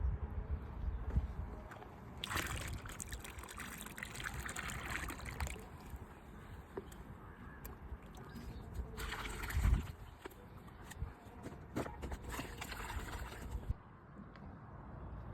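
Cow dung slurry mixed with single super phosphate and soil pours and trickles steadily into a farm pond, a continuous liquid splashing and sloshing outdoors with a few louder gushes.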